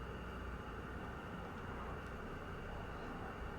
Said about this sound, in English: Pause for helicopter.